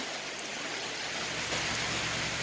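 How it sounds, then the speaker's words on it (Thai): Rain falls steadily in an outdoor setting, a dense, even hiss of drops on surfaces that stays at a moderate level throughout, with no other sounds standing out. "โอ้โหดูบรรยากาศฝนตกนะคะ"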